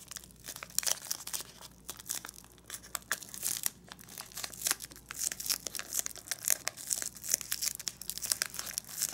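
Origami paper crinkles and crackles in quick irregular bursts as it is creased and folded for a paper gauntlet's wrist armor, close and fairly loud throughout with no voices.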